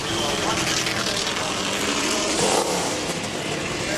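A NASCAR stock car on a Bud Pole qualifying lap for the 2001 Southern 500 gives a steady, loud engine roar with a slight rise in pitch, heard under a commentator's voice.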